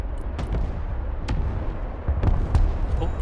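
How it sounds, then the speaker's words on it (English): Counter artillery fire in a real-time strategy game, a scatter of sharp booming impacts at irregular intervals over a low rumble, some near and some more distant. "Instant counter artillery from our opponent here."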